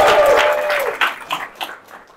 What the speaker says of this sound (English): So everybody cheer for him.